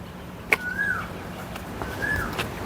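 Two drawn-out, rising-then-falling bird calls ring out near the Escarceo lighthouse in Puerto Galera, each preceded by a sharp click, over a steady low hum of wind and outdoor ambience.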